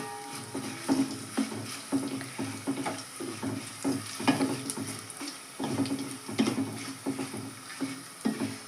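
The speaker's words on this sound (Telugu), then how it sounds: "పోపు దినుసులు అవి బాగా ఆయిల్లో బాగా ఫ్రై కావాలండి" Whole tempering spices sizzle and crackle in hot oil for a Malabar spinach dal, a steady close frying hiss broken by soft stirring clinks.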